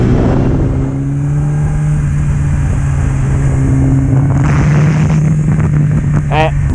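Motorcycle engine revving hard during a road race, its steady drone climbing in pitch with rising revs, heard under people talking and cheering nearby.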